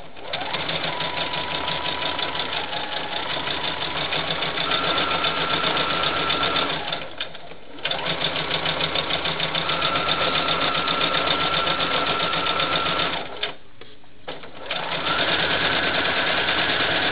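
A sewing machine stitches pieces of a Christmas quilt block in steady, close, humming runs, with two brief pauses between seams and no one speaking.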